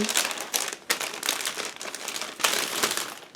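Crinkly plastic bags crackle and rustle continuously as grey plastic parts of an ICM 1/24 1912 Model T Delivery kit are unpacked, close and fairly loud, with several sharper crunches.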